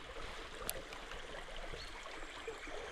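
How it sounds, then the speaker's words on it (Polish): A small waterfall on a forest trout stream, over very deep water, gives a steady, soft rushing wash that stays faint and even throughout, with no talking. "Piękne miejsce. Wodospadzik, bardzo głęboka woda."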